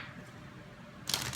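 A deck of tarot cards being shuffled during a reading, a quiet low rumble giving way to a sudden crisp riffle of cards near the end.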